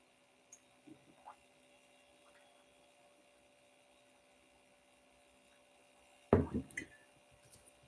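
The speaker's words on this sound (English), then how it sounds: "Let me take a sip here. Coconut water with coconut chunks." Someone sips coconut water with coconut chunks: a few faint small slurps early on, then a louder close wet gulp and squishy swallowing sounds near the end, over a quiet background.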